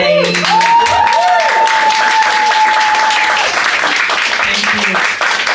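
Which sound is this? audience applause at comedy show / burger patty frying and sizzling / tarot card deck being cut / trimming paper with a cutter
audience applause at comedy show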